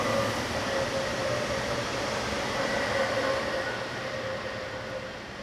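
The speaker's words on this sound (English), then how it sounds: "(46028) arrives with the slightly delayed 1647 from Locarno to Basel." A passenger train arrives on the old Gotthard north ramp mountain line in Switzerland. A steady, moderately distant rumble carries a sustained electric whine and fades slightly toward the end.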